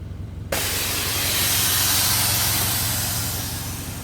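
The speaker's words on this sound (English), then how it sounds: "now we're just gonna air it out and see what happens." Air suspension on a bagged Honda Civic being aired out: after half a second of quiet, a loud steady hiss of escaping air starts suddenly and holds, easing slightly toward the end.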